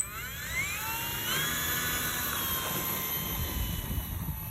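A model airplane taxis over grass, its small engine or motor a high, whining buzz that rises in pitch around the one-second mark and then holds steady, fairly close and moderately loud, with no talking.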